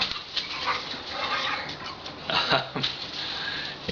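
A puppy whimpers and whines in short high bursts near an outdoor spot where trees are being felled, fairly close and moderately loud, with faint rustling around it.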